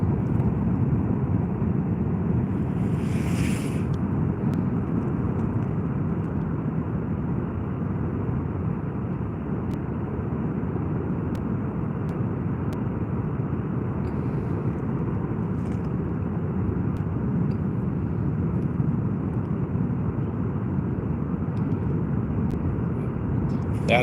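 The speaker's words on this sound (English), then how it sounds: "That is the volcano making all that noise." Kilauea volcano's fountain eruption roars in a deep, continuous rumble like a jet engine, loud and unbroken, with a short sharp hiss early on.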